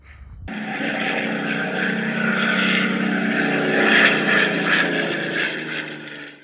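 Radio-controlled model EC-130V, a four-propeller C-130 variant, flying on its first flight: a steady, loud multi-engine propeller drone that starts abruptly and holds throughout, swelling slightly midway, with no talk.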